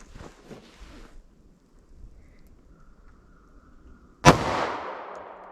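A single loud gunshot from a .45 ACP Shield subcompact pistol with a 3.3 inch barrel, fired at a ballistic test after a few seconds of quiet background, with a sharp crack and a short ringing decay.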